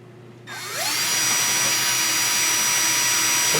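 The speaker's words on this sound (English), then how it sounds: "I drill these through slow." Power drill starting up and boring slowly through an aircraft panel on a Piper Supercub Widebody, a rising whine that settles into a steady loud drone, close and alone.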